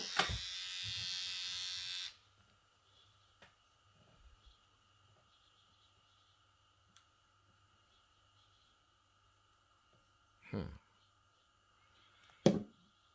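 A Kemei 6267C electric hair trimmer buzzes loudly for about two seconds and then switches off. Only faint clicks and light handling noises follow, with a couple of short knocks near the end.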